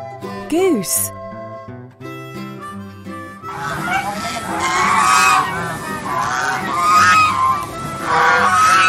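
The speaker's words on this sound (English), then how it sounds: "Goose." A goose honks loudly and repeatedly in a busy, dense burst of calls, preceded by a short cheerful musical jingle.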